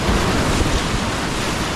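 Whitewater rapids on the Green River Narrows, a steep creek section dropping over 400 feet per mile, roar as a loud, steady broadband rush of churning water, close and unbroken, with wind buffeting the microphone.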